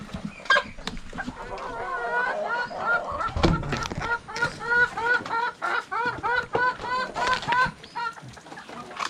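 Chickens cluck and crow at feeding time on a backyard poultry farm, a lively chorus of many birds with repeated rooster-like calls and steady clucking, close and continuous throughout.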